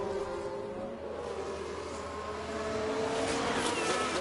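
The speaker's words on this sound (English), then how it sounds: "Car ahead is Albon." Race cars in the F1 Manager 24 video game drone steadily at moderate level, a continuous engine and track wash with no talk over it.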